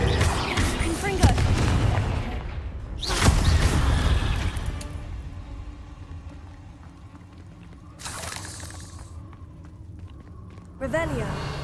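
Confringo fire spell blasts cast in Hogwarts Legacy, several loud explosive bursts with booming impacts and crackling debris, spaced a few seconds apart, with voices shouting spell names over them.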